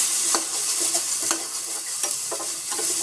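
Green beans frying in hot oil for a beans curry, giving a steady close sizzle broken by a few sharp clinks and scrapes of a spoon stirring the pan, with no voices.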